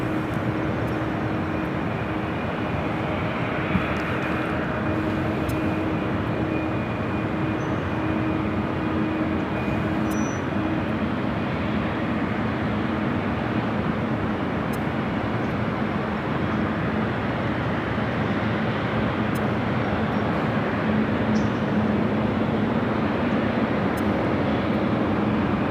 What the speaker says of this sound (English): Alaska 737 coming in from Seattle, now about to touch down on 24 right.